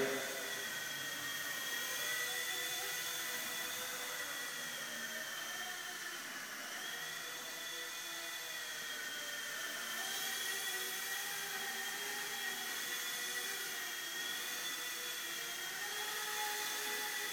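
A small WLtoys V911 RC helicopter whines indoors with a high, steady buzzing drone, its pitch rising and dipping slightly as it hovers and maneuvers nearby.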